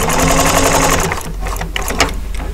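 An upholstery sewing machine stitches cording onto the bottom of a boxed T cushion, a loud rapid mechanical whir for about a second, then a few slower, separate needle thumps as it eases off.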